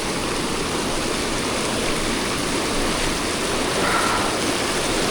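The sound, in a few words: mountain stream water being waded through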